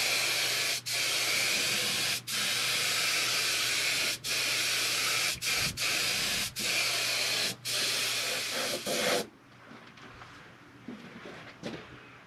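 An aerosol can sprays touch-up paint onto a cooler mount in long continuous hissing bursts broken by brief pauses, loud and close, before the spraying stops and quiet follows.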